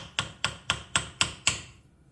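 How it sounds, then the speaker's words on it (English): Brass hammer tapping a pot metal pulley off an old Crocker-Wheeler bipolar fan motor from around 1895, six sharp metallic taps at an even, steady pace, close and clear with no talk. "I'm able to get some movement out of this pulley using the brass hammer"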